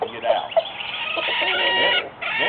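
Hens clucking inside a backyard chicken house at night, a close, busy chorus of soft clucks and murmuring calls overlapping continuously, with a couple of sharper squawks near the start.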